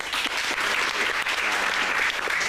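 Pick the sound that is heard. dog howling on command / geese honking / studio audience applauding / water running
studio audience applauding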